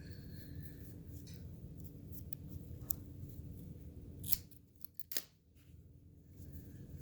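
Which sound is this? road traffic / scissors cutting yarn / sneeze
scissors cutting yarn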